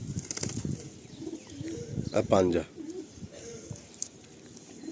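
Pakistani Giribaz pigeons flap and coo nearby, a brief burst of wingbeats rising in the middle amid soft murmuring calls, with someone speaking over them.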